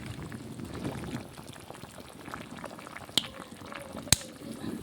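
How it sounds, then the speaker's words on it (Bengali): A vegetable curry of home-grown Malabar spinach simmers in a pot with a steady, low, dense bubbling that stays close and even, broken by two sharp clicks near the end. "তো আমি মিনিট 10 আবার কিন্তু ফুটিয়ে নেব ভালো করে"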